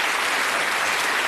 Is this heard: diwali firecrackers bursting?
no